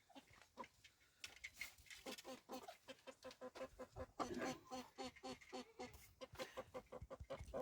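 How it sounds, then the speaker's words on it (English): Broiler chickens in a poultry barn on an integrated farm in Manipur, many birds clucking and chattering continuously at close range, the flock noise dense and rising and falling throughout. "This is the poultry farm, broiler farm"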